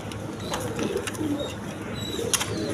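Big-sized pigeons coo softly in low repeated calls close by, with occasional higher chirps and rustling among them, no talk over the sound.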